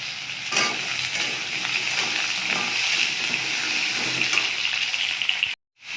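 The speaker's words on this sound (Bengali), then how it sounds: "গোটা জিরে ফোড়ন দিলাম, আলু পেঁপে দিয়ে দিচ্ছি।" Potato and papaya pieces frying with whole cumin seeds in hot oil, a continuous close hiss and crackle that stays steady for several seconds before cutting off abruptly near the end.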